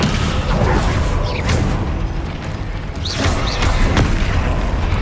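Heavy magical slam of the Descendo spell in Hogwarts Legacy, a loud booming impact with whooshing sweeps amid dense, continuous combat noise.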